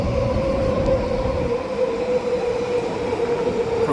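A SkyTrain metro train runs through Burnaby, its steady rumbling roll and a sustained tonal whine from the motors or wheels carrying continuously at close range, with no voices.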